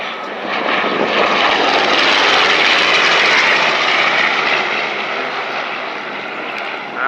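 Warbird airplanes passing overhead at an airshow, a loud, sustained broadband engine roar that swells and holds steady for several seconds before easing slightly, with no talk.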